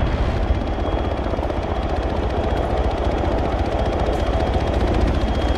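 Gatling guns fire in a video game, a dense, steady mechanical roar with rapid continuous rattling and a rotor-like drone that runs unbroken and loud throughout, with no voices.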